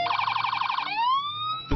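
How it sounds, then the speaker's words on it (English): Police car siren during pursuit simulation training in Cincinnati, a rapid warbling yelp that slides into a rising wail, loud and close, cut off after under two seconds. "The sirens are real"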